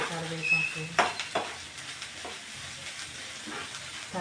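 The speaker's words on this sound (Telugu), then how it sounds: "మంచిగా ఫ్రై అవుతుంది." Onion, green chili and curry leaves sizzling in a pan, with a few utensil scrapes and clinks over the steady frying hiss and a faint voice in the background.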